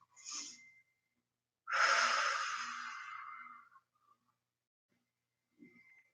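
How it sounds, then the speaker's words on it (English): A single long, deep breath taken during a guided group check-in, a drawn-out airy rush lasting about two seconds, close and fairly soft, with a briefer breath before it and a faint one after. "So let's take a big, deep breath together."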